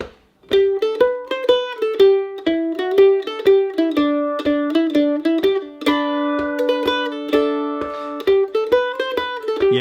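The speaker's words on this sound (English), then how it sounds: "So we're going to shuffle it or swing it." Mandolin eighth notes in a swung, long-short shuffle rhythm, bright plucked notes ringing clearly and steadily with no voice over them.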